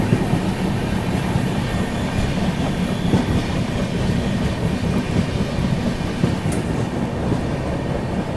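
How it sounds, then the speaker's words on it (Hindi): The Vivek Express rushes past at close range while overtaking the Brahmaputra Mail near New Bongaigaon, a loud continuous rumble of wheels and carriages with rattling clatter throughout. "ये देखो वो आ गई विवेक एक्सप्रेस ओवरटेक मारने ब्रह्मपुत्र मेल को।"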